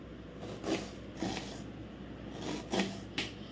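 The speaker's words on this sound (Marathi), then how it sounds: "तर आता हा आपला कांदा असा कापून झाला आहे" A knife cuts an onion crosswise into fairly thick slices for crispy kanda bhaji. The soft rasping cuts come in a handful of separate strokes, close and quiet, with no talking.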